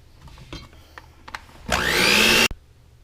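An electric mixer blends cupcake batter made with egg whites: a few light clicks and taps, then a loud, steady motor whir lasting under a second that cuts off abruptly.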